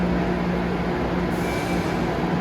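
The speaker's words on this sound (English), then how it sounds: "this Blue Line train is leaving East Boston behind" An MBTA Blue Line subway train pulls out of East Boston station toward Aquarium, a loud, continuous rumble of wheels and motors with a steady low hum and a faint high squeal.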